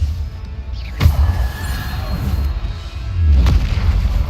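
Bombarda blasting spells going off in Hogwarts Legacy, two heavy booming impacts about two and a half seconds apart amid rumbling game sound, with a voice chanting spell names throughout.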